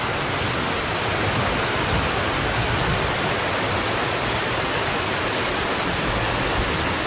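Heavy rain pours steadily throughout, a dense, constant roar of water with no pauses and no voices.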